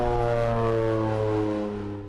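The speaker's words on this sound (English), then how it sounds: "The door closes and the plane takes off at 10 a.m." A plane's engines drone loud and steady as the aircraft takes off on a NASA snow survey flight, a strong sustained hum with harmonic tones that fades slightly at the end; no voices.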